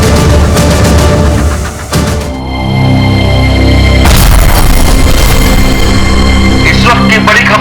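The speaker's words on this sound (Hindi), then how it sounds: "छत्तीसगढ़ के डीजीपी की कार में हुआ धमाका" A car bomb goes off in a police chief's car in Chhattisgarh, a sudden heavy boom partway through, followed by a loud, sustained roar under a dense, dramatic background.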